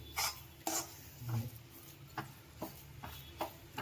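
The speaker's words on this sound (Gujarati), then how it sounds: "આવી રીતે આપણે ચટણીને ચમચાથી હલાવતું રહેવાનું" A spoon stirs green garlic chutney in a pan on the gas, making soft, intermittent scraping strokes over a faint, quiet sizzle.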